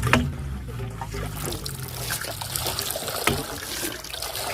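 Groundwater pumped by hand from a shallow well through a homemade high-pressure suction head, giving a steady close rush and trickle of flowing, splashing water that runs unbroken with no talking.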